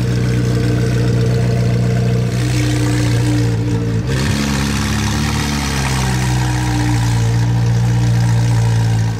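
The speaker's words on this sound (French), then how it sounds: "Oh, c'est quoi cet échappement là? Pas d'origine du tout." A Koenigsegg supercar fitted with a non-original tube exhaust runs at a Paris car rally, its engine a steady, loud, close drone that idles and swells slightly through the whole stretch, with no talk over it.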